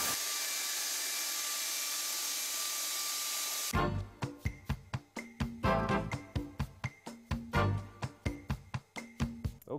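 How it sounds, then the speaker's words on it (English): Quarter-inch air ratchet on a Jeep JK drive line bolt: a loud hiss of air first, then a rapid run of sharp clicking bursts, close and repeated, with no talking. "a quarter inch air ratchet is your friend"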